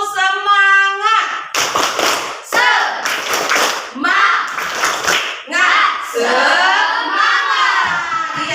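A class of children in an Islamic religious education lesson performs a rhythmic clap chant, bursts of hand claps mixed with loud shouted voices in a patterned beat, following a sung or called-out lead.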